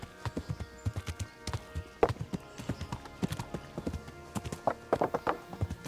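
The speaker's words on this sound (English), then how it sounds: "That horse we stole at the very start of the game still there" Horse hooves clip-clop steadily in the medieval game Kingdom Come: Deliverance, with a brisk, even rhythm of crisp hoofbeats at moderate volume and no talk over them.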